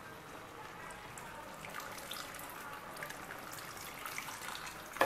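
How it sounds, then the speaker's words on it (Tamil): Tamarind water pours into a pot of sambar, producing a faint, steady liquid trickle and splash that lasts several seconds, with no talking. "தேவையான அளவு புளி தண்ணி."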